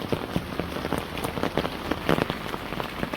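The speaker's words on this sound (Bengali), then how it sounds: "তো সকালবেলা বৃষ্টিটা কেমন লাগলো আপনারা কিন্তু সবাই অবশ্যই বলবেন, কারণ এত সুন্দর বৃষ্টি বর্ষার সিজনে" Morning monsoon rain in a Bangladeshi village, a steady close patter of drops striking surfaces with no voices.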